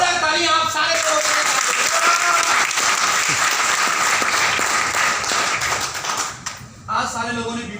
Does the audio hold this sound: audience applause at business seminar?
yes